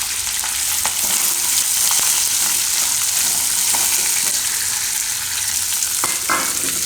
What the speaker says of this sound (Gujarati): હવે આમાં ડુંગળી નાખી દેવું